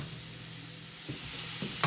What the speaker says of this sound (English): So we're sauteing the vegetables.